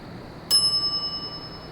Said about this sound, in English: We're gonna ring that bell.